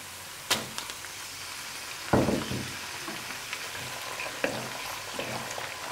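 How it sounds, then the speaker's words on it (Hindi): Chicken and garlic frying in a pan, a steady broad sizzle throughout with a few clatters and stirring knocks, close and alone without talk. "थोड़ा सा लहसुन को फ्राई करेंगे और इसमें हम अपना चिकन ऐड कर देंगे"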